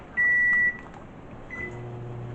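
A kitchen timer set while cooking pasta gives one clear, loud electronic beep, followed by a fainter second beep over a low steady hum in a quiet kitchen.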